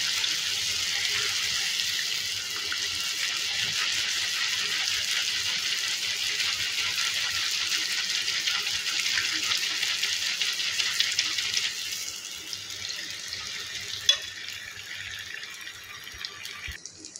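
Batter for flower-shaped pitha sizzles in hot oil in a pan, a steady loud crackling hiss that thins out toward the end, with a brief clink near the close.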